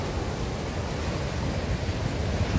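Powerful waves surge and crash at Praia do Buraco near Nazaré, a beach known as dangerous, heard as a dense, continuous roar of surf and wind that stays loud and steady throughout.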